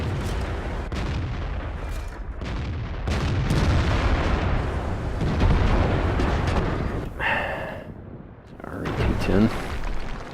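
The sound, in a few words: tank cannon fire in World of Tanks video game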